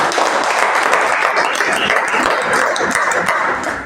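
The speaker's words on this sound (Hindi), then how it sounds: "ताली बजाइए इनके लिए" Students in a Class 9 science classroom clap together for classmates, a loud, dense burst of hand claps filling the room continuously for several seconds.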